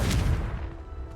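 Confringo spell cast in Hogwarts Legacy lands as a short booming blast, a loud low-heavy burst that quickly decays into a fading rumble, with no talking.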